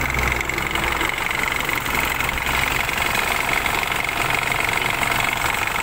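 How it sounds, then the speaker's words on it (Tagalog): An Isuzu D-Max 3.0 diesel engine with a charging system problem runs at a steady idle, a constant close, loud mechanical rumble with a faint knocking texture throughout. "So ang gawin natin ngayon ay paandarin yung makina."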